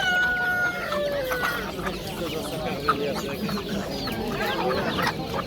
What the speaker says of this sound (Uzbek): Tuxumlayotgan makellar.